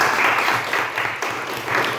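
Applause from a classroom audience during a teaching performance assessment, steady broadband clapping for about two seconds with slight swells, fairly close and moderately loud.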